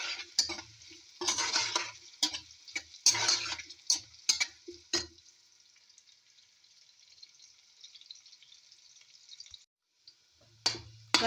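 Onions, with garlic, fry in a pan for a Pakistani lady finger curry, with repeated scraping stirs over a sizzle; the stirring stops midway, leaving a steady quiet sizzle before a couple of final scrapes.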